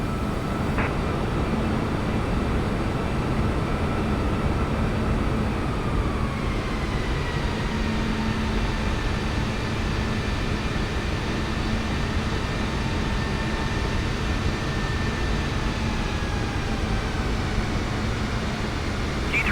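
An airliner lands on runway 27 left in the video game Flight Simulator 2024, giving a steady, loud engine roar with a thin high whine that slowly drifts down in pitch throughout.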